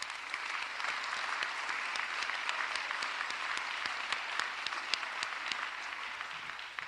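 Dense, steady applause from a large audience at the Philadelphia mayor's State of the City address, sustained and even throughout with sharp individual claps scattered across the wash, no voices over it.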